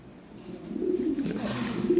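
Lahori Sirazi pigeons at a home pigeon farm coo softly and repeatedly, a low rolling murmur that swells mid-way and continues steadily through the short stretch with no talking.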